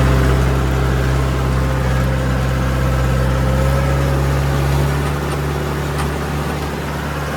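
A tractor engine runs steadily in a rain-soaked, waterlogged muddy field, a loud, continuous low drone with no breaks.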